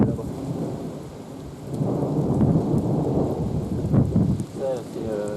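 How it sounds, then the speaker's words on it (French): Heavy rain from the base of a thunderstorm patters steadily while low thunder rumbles and swells in the background, loud and close. "Ça, c'est la pluie de la base qu'on entend."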